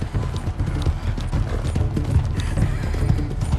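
Horse hooves clip-clop at a steady gallop in the Red Dead Redemption 2 video game, with a whinny rising over the dense, continuous hoofbeats and game ambience.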